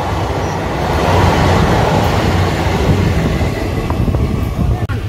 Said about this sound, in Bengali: তেভাগা এক্সপ্রেসের সাথে একটি ক্রসিং হচ্ছে